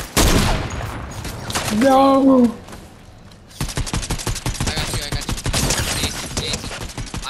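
Rapid automatic gunfire in a Fortnite match at Breakwater Bay, dense crackling bursts on both sides of a shouted voice, with a short lull before the shooting resumes in fast irregular volleys.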